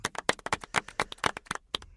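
A small audience applauds, with sparse, irregular hand claps at a quiet level, thin and distinct rather than a dense ovation, lasting about two seconds.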